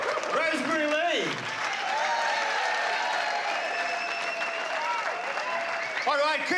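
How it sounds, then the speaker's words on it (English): Audience applause at a comedy school show, dense clapping held steady throughout, with a host's voice talking over it at the start and end. "keep the applause going"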